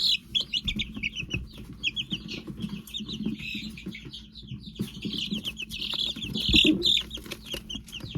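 Chicks in a brooder, among them an Ameraucana and an Easter Egger, chirp and cluck continuously in a dense, close chorus with scattered sharper peeps and light rustling throughout, no voices.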